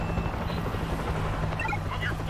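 A helicopter's rotor thrums steadily and loudly during a zombie-horde scene in the video game World War Z, a constant low chop with faint game sounds over it.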